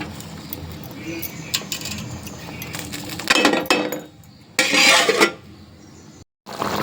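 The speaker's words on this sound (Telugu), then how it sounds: "మసాలా వేసి కలుపుకుందాం." Spicy chicken curry with masala stirred in a metal pot, uneven clinks and scraping of a spoon against the pan, loud bursts with pauses, while someone talks.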